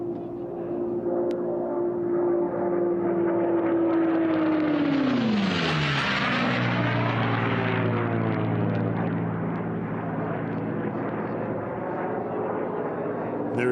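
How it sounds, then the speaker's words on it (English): Sea Fury unlimited racing aircraft at an air race roars past on an 8-mile course, its loud piston drone building, then dropping sharply in pitch as it passes close and fades into a steady lower rumble. "There is our second place aircraft, Tommy, as he makes the turn"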